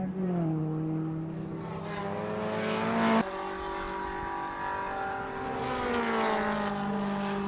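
Race cars lapping a circuit during a Fiesta Z-Tech race, engines droning steadily with rising and falling pitch as cars pass, one loud pass peaking then cutting off sharply, another car approaching near the end.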